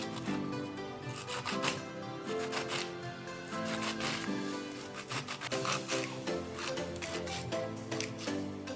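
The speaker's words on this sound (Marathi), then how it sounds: "आता आपण याला छान बारीक कापून घ्यायचे आहे" Taro leaves are finely chopped with a knife, giving a fast run of crisp, close cuts in irregular bursts over a soft background hum, with no one speaking.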